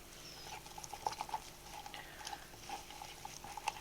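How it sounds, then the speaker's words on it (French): A spoon stirs a glycerin shaving soap mixture for the face, made with avocado and clay, in steady soft scraping and swishing strokes with faint clinks against the bowl, close and quiet, with no voices. "Donc bien la mélanger."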